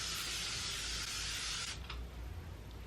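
A steady hiss of a cleaning-spray bottle held for almost two seconds, then a brief quieter spurt, close and clear.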